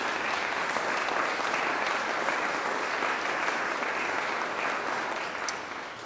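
Steady, dense applause from a large audience honoring arts funders at a Philadelphia civic launch event, sustained and fairly loud throughout, tapering slightly at the end.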